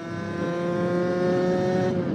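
A 50cc motorcycle engine revs hard at high speed in a steady, loud, buzzing whine with a strong harmonic drone that holds constant throughout, close to the listener.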